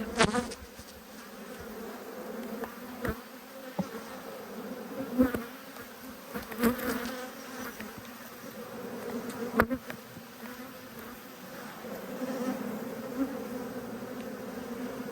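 Honeybees humming steadily around an open hive during an apiary inspection, a close continuous buzz with occasional clicks and knocks of frames being handled.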